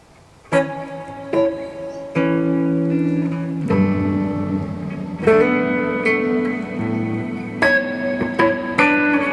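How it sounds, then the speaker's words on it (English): Guitar chords ring out one after another through a Chase Bliss reverb pedal, each drenched in a wide, smeared reverb tail that blends into the next, with no talking. "just play with the reverb here"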